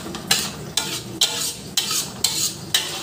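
Blended tomato sizzles loudly in a hot cooking pan for nasi briyani, with a spoon stirring and scraping at a steady rhythm of about six strokes over the constant frying hiss.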